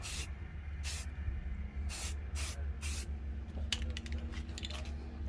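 An aerosol coat sprays onto restored door panels from a G-body Cutlass in short hissing bursts, several quick sprays spaced apart and close to the ear, with light handling clicks near the end and no talking.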